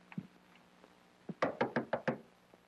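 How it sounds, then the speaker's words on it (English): Knocks rap on a door: a couple of faint taps, then a quick, louder series of five firm knocks close by in an old television program. "When I knock, you answer."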